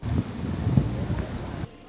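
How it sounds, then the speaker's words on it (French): Strong wind with rain rumbles and buffets the microphone in gusts, then briefly drops off near the end. "Il fait que pleuvoir, il y a du vent de malade."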